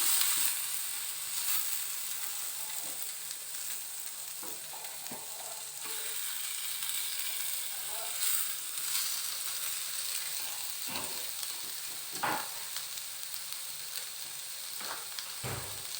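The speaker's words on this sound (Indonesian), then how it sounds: "satenya kita masak" Sate taichan skewers, marinated overnight and brushed with butter, cook over heat with a soft, steady sizzle and hiss, fairly quiet, with occasional small pops and clinks and no talking.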